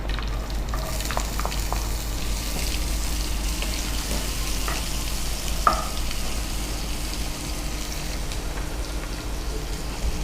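Onion fries in hot oil and ghee with curry leaves, a loud, dense, continuous sizzle close by with a few faint clicks scattered through it.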